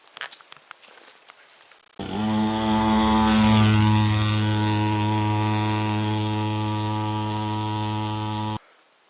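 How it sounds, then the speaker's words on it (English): A small motorcycle is ridden up a driveway hill, its engine kicking in loudly after a couple of seconds as a steady, close buzzing drone that holds and then cuts off abruptly. "it'd be funnier to ride this little motorcycle"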